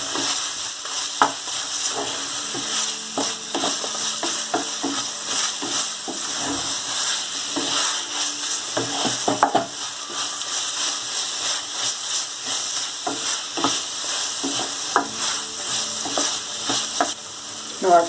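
Oil sizzles and fries steadily with clattering spoon stirs through a pan of brinjal and potato curry, a continuous loud hiss broken by frequent scraping knocks.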